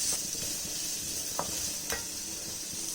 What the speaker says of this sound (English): Curry leaves also I'm adding it up. Let's saute it.